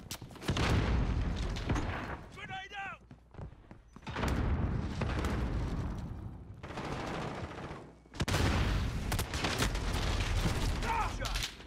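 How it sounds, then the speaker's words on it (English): Heavy blasts and rattling gunfire in the Call of Duty: Modern Warfare multiplayer arrive in loud bursts separated by short lulls, with the last burst being the strongest. "Grenade"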